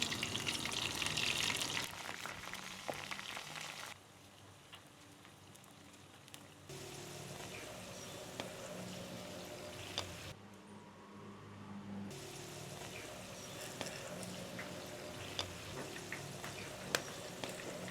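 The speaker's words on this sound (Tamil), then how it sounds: "வெண்டிக்காய் வந்து நல்லா பொண்ணுறமாக பொறிஞ்சிட்டு" Okra slices frying in hot oil for a Jaffna-style curry give a faint, steady crackling sizzle that drops away twice for a few seconds before resuming.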